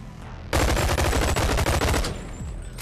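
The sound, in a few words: rapid gunfire emptying a magazine in Bonelab video game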